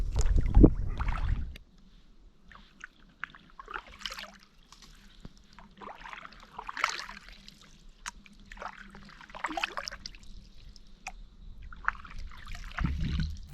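Canoe paddling through the Okefenokee Swamp, soft wet strokes and drips recurring every second or two, close and fairly quiet over a faint steady hum, with a brief louder thump at the start.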